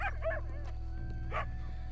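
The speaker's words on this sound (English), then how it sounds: "I want to see what's up with that dog." A dog barks a few times in quick yips in Red Dead Redemption 2, followed by another bark after a pause, over a low steady hum.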